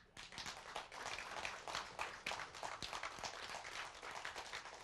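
Audience applause after a speaker's heartfelt thanks at a gathering, a steady dense patter of many hands clapping for the full stretch, moderately near with no talk over it.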